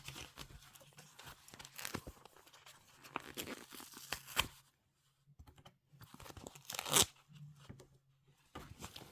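Scissors cutting around a paper pattern piece in a series of crisp snips and rustles, close and fairly quiet, with brief pauses between bursts of cutting.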